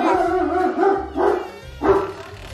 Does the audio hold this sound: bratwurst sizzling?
no